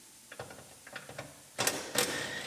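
A ratchet clicks in short runs while unbolting the 10mm dash bolts inside a Silverado cab during a cab swap teardown, followed by two louder metallic bursts near the end.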